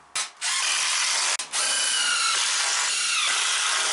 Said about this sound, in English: you can just see that I'm driving the screws in through the support into the post